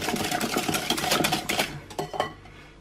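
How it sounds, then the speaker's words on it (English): A whisk beating cream into almond flour waffle batter in a bowl, a busy run of quick clinking, scraping strokes close by for a couple of seconds, then a few sparser taps as it slows. "First is 1/4 cup of cream. Just use whatever cream you've got to hand. We'll whisk that in."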